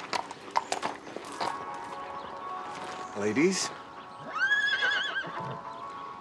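Horses clip-clop with several hoof strikes, then whinny twice, loud and close, with a brief spoken word mixed in.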